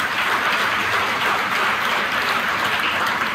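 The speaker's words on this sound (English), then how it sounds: "let's give him a round of applause" Steady, dense applause from an audience at a fundraiser dinner for the National Society of Black Engineers fills the space, a continuous wash of many hands clapping without letup and no voices on top.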